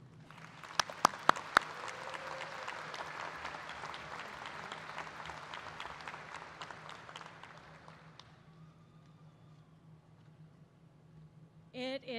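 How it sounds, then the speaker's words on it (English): Sustained applause from a large audience at a high school commencement ceremony, dense clapping with a few sharp claps up front, fading away and leaving a quiet hall. "Please give a round of applause for Miss Heber."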